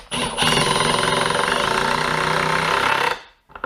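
A Milwaukee impact driver with an impact bit drives a screw into wood. It makes a loud, continuous rapid hammering rattle for about three seconds at close range, then stops.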